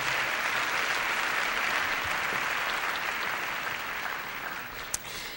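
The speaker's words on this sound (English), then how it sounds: "give yourselves a round of applause for being here today" Audience at a college commencement applauding themselves, a dense steady wash of clapping that slowly fades toward the end, with one sharp louder clap near the finish.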